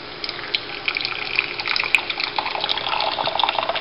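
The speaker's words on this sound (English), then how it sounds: "You pour the water over" Hot water is poured steadily over a paper coffee filter, making a continuous close splashing and trickling stream that grows slightly fuller as it goes. No voices are heard.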